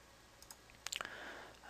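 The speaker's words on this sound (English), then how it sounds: "just go to it and double click it like any normal application" Quick light mouse clicks on a computer while launching a program, faint and close, with a couple of soft taps followed by a rapid cluster of crisp clicks.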